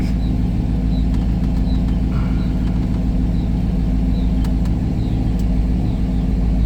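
A 1971 Ford Mustang Mach 1 with a 429 Super Cobra Jet V8 idles steadily, a deep continuous rumble close up with a faint fan whir above it and no talk.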